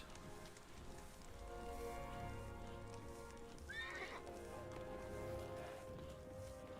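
Horses whinny with a rising, quavering neigh over a steady background bed, with faint clip-clop; a synthetic sound from the video game Stronghold: Warlords.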